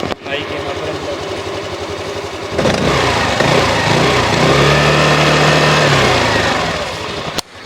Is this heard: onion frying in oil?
no